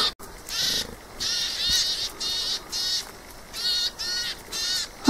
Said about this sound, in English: there is a little bird there. They're calling me for some reason.